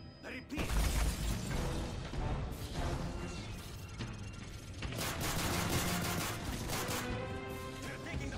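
Heavy continuous gunfire during an attack in Call of Duty: Modern Warfare 3 on the Persona Non Grata mission, dense rapid shots and crashes throughout, with shouting voices mixed in.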